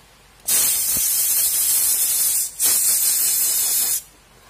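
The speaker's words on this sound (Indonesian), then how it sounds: "sebelum kita kunci kuat, kita semprot pakai angin" Compressed air blasting onto a motorcycle oil drain bolt in two loud, steady hissing bursts at close range, the first running about two seconds and the second about a second and a half after a brief break.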